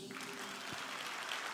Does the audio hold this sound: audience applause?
yes